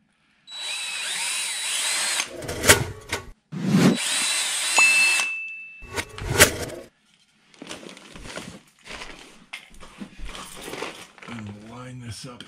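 A power drill pre-drilling holes at marked mortar joints during drywall repair around an AC unit, three close, loud whirring bursts with pauses, followed by quieter handling noises.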